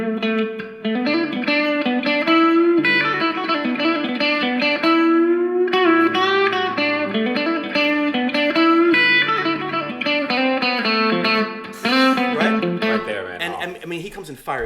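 A heavily distorted electric guitar plays a fast, sustained solo line with bends and dense notes, loud and continuous.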